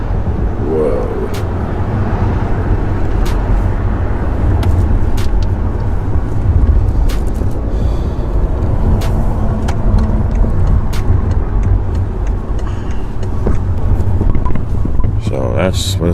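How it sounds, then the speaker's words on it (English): Dense Los Angeles road traffic with a steady engine rumble and passing cars, heard from inside a vehicle, loud and continuous for the whole stretch, with people talking over it. "Welcome to this traffic in LA."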